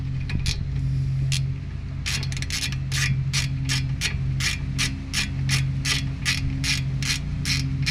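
A ratchet clicks in quick repeated bursts while bolts are tightened during a brake replacement on a Chevy Volt, with a steady low hum underneath and no talking.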